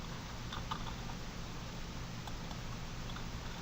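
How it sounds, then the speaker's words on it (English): Quick, light typing on a computer keyboard, a soft close patter of key clicks with a few slightly louder taps, steady and continuous with no talking. "I can come here in my link and I can type in Twitter"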